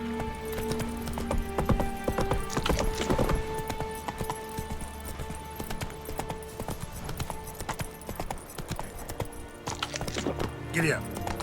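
Horse hooves trotting in The Witcher 3, rhythmic clip-clop steps under game music and spoken dialogue, with a short whinny near the end.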